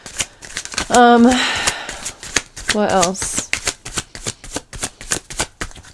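A deck of tarot cards is shuffled close up, a rapid run of crisp riffling clicks and flicks that continues throughout while someone speaks briefly over it.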